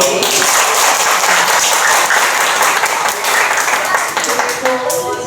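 Audience applause at a moss terrarium workshop, a dense, steady wash of many hands clapping close by, continuing throughout with faint speech underneath.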